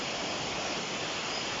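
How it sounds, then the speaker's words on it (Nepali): Steady, loud broadband rush of a large river flowing close by, continuous and unbroken, with no voices over it. "यत्रो ठुलो सार खोला पनि"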